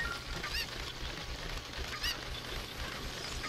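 A cucco chicken in The Legend of Zelda: Ocarina of Time gives two short clucking calls over steady game background sound and music.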